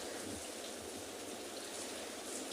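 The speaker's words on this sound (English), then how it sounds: "So I love watching wildlife in rain." Steady rain falling at a penguin beach where wildlife is watched, an even continuous hiss of drops on water and surfaces with no break, fairly soft and without voices.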